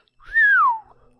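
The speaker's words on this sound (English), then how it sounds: "Kid whistles out loud in admiration." A single loud, clear whistle from a person, rising then gliding smoothly downward in one sustained admiring note, alone in near silence.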